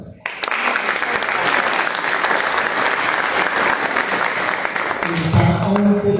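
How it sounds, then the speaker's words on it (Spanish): Audience applause for a writer at a book launch, a strong sustained burst of clapping that starts abruptly and stays loud and dense throughout, with a voice coming in near the end. "para allá un fuerte aplauso"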